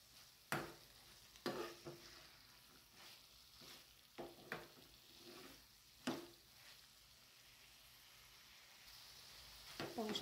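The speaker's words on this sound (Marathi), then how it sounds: "हे छान मिक्स करूया।" A spoon stirs bitter gourd bhaji with chana dal and fresh coriander in a pan, giving several soft scrapes and knocks against the metal over a faint sizzle, quiet and close.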